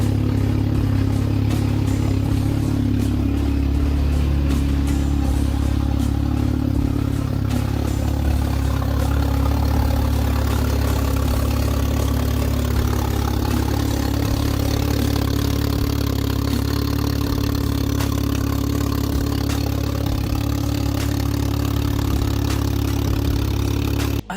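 A B9 Audi A4 2.0T engine swapped into a B8 A4 idles steadily and loudly up close with a low rumbling hum and a light mechanical clatter, running without voices.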